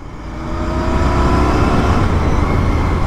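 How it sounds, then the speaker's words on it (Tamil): A new Royal Enfield motorcycle engine runs with a steady, thumping rumble that swells slightly in loudness and holds close and strong throughout. "சூப்பராக இருக்குல்ல வண்டி சவுண்டு"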